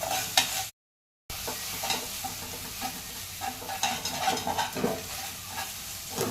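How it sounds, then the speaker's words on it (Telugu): Egg frying in a pan for homemade egg rice while being stirred, a steady close sizzle with scraping stir strokes throughout, broken by one short gap of silence near the start. "కొంచెం కలర్ చేంజ్ అయినాక కలుపుకోవాలి మనం ఆమ్లెట్ వేసుకున్నట్టు ఉంటే చాలు"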